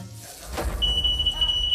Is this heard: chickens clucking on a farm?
no